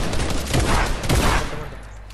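A rapid burst of gunfire in the video game Fortnite crackles loudly for a moment, then trails off into a fading echo.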